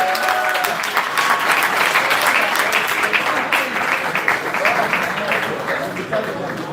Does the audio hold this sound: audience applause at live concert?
yes